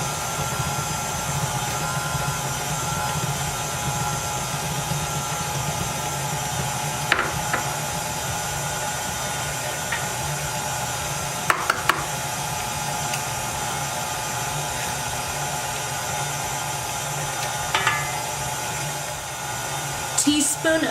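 Electric hand mixer beating butter, sugar and eggs for banana nut bread, a steady loud whirring drone throughout with occasional knocks of the beaters against the bowl and someone speaking over it.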